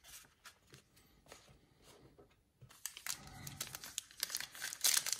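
A pack of 2018 Topps Archive baseball cards is torn open, with crinkling foil wrapper and tearing bursts that grow louder and busier toward the end, close up with no talk.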